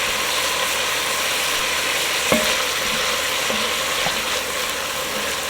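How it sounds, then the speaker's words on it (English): Garlic fries in a pan for bolognese, giving a continuous bright sizzle with a couple of faint utensil taps partway through. "Alright, so now we're gonna just add some garlic."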